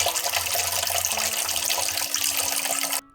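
Water from a tap pours steadily in a loud, close hiss for about three seconds, then cuts off suddenly.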